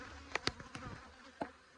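Honeybees buzz at a hive while it is being checked, with a few short close passes by individual bees standing out over a quiet background, alone without talk.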